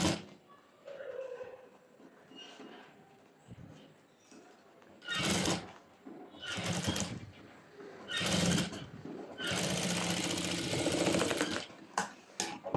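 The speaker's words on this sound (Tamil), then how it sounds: "ஸ்டிச்சஸ் கொடுத்து எடுத்துக்கிட்டோம்" A sewing machine stitches a pleated maxi dress in several close, loud bursts of rapid whirring, with quiet pauses and faint handling noises between the runs.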